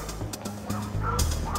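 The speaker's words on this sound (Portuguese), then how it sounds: "Vamos sair daqui porque o cachorro não para." A dog barks insistently nearby, its yips and woofs repeating over a steady low background hum.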